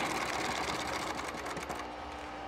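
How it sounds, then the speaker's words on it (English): Sewing machine stitching a pleat for a tuck-and-roll seat cover on a 1947 Ford, a loud, close, rapid mechanical whir that runs steadily and then eases toward the end, no talking. "So you start by sewing a normal pleat"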